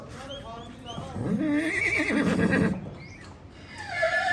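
A mare on a horse farm lets out a loud, wavering whinny up close, followed by shorter snorts and calls, with people talking around it.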